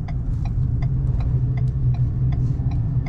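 A 2022 Ford Maverick Lariat pickup rounding a street corner at night, heard from inside as a steady low engine hum and road rumble with a quick regular ticking, most likely the turn signal.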